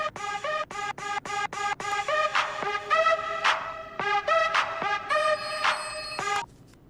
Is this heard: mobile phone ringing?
yes